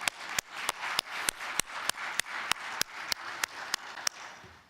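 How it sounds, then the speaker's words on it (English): An audience at a tribute event applauding for its sponsors. Sharp, evenly spaced claps ring out in a steady rhythm over a softer bed of crowd clapping. "a big round of applause for them"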